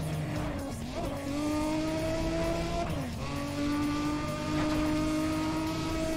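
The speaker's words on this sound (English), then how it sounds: "can you hear that sound of this V6 Nissan motor?" Engine of a V6 Nissan in the racing game NFS ProStreet, a steady loud drone rising in pitch through gear changes, with brief drops at shifts around one and three seconds, continuous and close with no talk.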